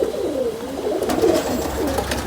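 Pigeons cooing close by in a pigeon keeper's loft, soft throaty rolling calls repeating over a low background hum.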